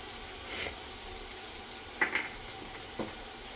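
Garam masala, biryani masala and yogurt being stirred into chicken for pulao, a soft continuous sizzle with a few brief scraping strokes of a spoon against the pot.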